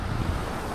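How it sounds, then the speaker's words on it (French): Strong wind blows in a steady, loud roar across the microphone, a brief, constant rumbling rush with no other sounds. "Le vent soufflait fort ce jour-là."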